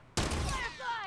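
A single sharp gunshot in The Last of Us Part 2 cracks out loudly after a moment of quiet, then rings off into a fading echoing tail.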